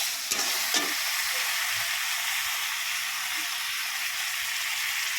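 Spices sizzling hard in hot oil in a pan for an egg omelette curry, a steady bright frying hiss with a couple of short scrapes from stirring near the start.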